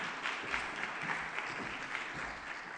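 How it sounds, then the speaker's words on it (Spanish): A room full of people claps steadily and evenly for a few seconds, with no voices over it. "Démosle un fuerte aplauso."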